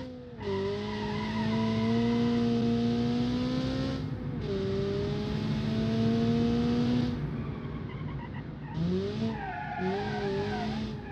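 A car's engine revs hard with long screeching tyre squeals as it tries to drift, loud and close, with pitch rising and falling across several sustained skids and no talking.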